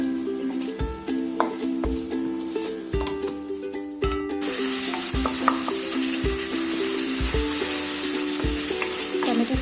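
Tomatoes with salt sauté in a pan for chicken dum biryani, a loud, dense sizzle with regular stirring knocks. Steady tonal music plays underneath, and the frying swells noticeably louder about halfway through.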